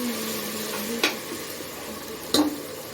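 Mushroom biryani masala sautéing in a pan until brown, a soft steady sizzle with two sharp scrapes of a spatula stirring against the pan about a second apart.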